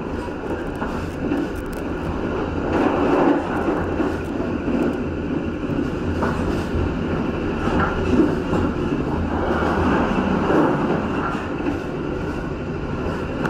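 The Sawunggalih passenger train rumbles steadily past at close range while overtaking a freight train at Arjawinangun, Indonesia, its rolling clatter and hum holding for several seconds with no talking.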